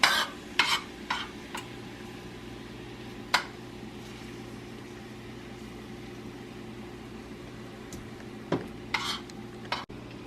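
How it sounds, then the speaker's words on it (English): Nuts sizzle quietly in a frying pan under a steady low hum, with occasional sharp scrapes and clinks of a utensil stirring. "make sure they're good and sizzling"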